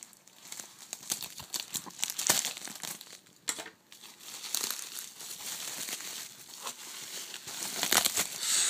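Someone tears into a tightly wrapped parcel, a close run of loud crinkling, rustling and ripping plastic and paper that comes in uneven bursts and swells, with no talking.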